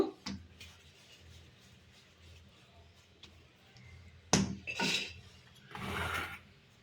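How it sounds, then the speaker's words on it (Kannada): Chapati dough for madikadubu is worked on a rolling surface, giving faint, intermittent rubbing and scraping strokes with a few louder swishes near the end. "ನಾನು ಫಸ್ಟ್ ಇದನ್ನು ಚಪಾತಿನ ತಿಕ್ಕೊಳ್ತೆ"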